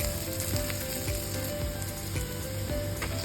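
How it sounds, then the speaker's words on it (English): Three large thinly sliced onions sautéing for beef biryani, a steady loud sizzle with crackling pops throughout, close up and without talk. "let's saute 3 large onions, thinly sliced. Saute until golden brown"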